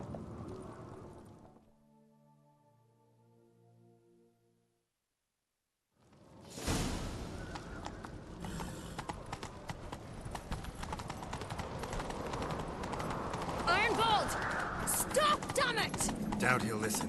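In The Witcher 3: Wild Hunt, after a quiet, music-like opening and a brief silence, rapid galloping hoofbeats start and continue loudly, with whooshing movement layered on top.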